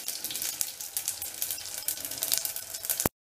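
Spices crackle and sizzle in hot oil while tempering for Indori poha, a dense continuous frying hiss with sharp pops throughout, close and fairly loud, ending abruptly.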